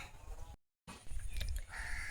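A crow caws in a village garden beside open fields, brief harsh calls with outdoor ambience, broken by a short silent gap.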